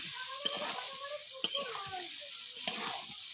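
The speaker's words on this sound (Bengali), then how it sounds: "এই দেখুন দিয়ে দিলাম সয়াবিনগুলো এই দেখুন নেড়ে নেবো" Soybean chunks stir-fried in a hot pan give a steady loud sizzle, with three sharp spatula scrapes and clacks against the pan at roughly one-second intervals, close up and without talk.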